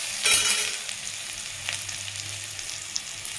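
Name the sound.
onions sautéing in a pan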